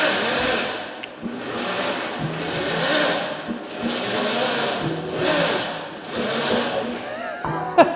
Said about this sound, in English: so let's see if it has enough torque to do a burnout